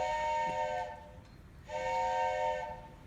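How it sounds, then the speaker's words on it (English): A loud, steady train whistle with bright stacked tones sounds twice during a Christmas stage performance, each blast lasting about a second, separated by a short pause. "but just then the train whistle blew."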